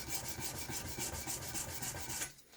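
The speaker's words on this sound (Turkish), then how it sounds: "ağız açtığımız yere zımpara çekiyoruz" Rapid, rhythmic scraping of sandpaper over the edge of a forged axe blade, steady back-and-forth strokes close up, stopping abruptly near the end.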